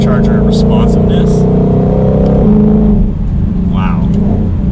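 Supercharged 2020-2023 Ford Mustang Shelby GT500 accelerating hard, a loud, close engine roar with rising rev tones and supercharger whine that eases off partway through before building again.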